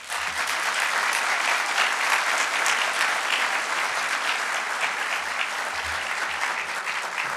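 An audience greets Carly Fiorina with sustained applause: dense, even clapping from a large crowd that fills the room at full volume for the whole stretch.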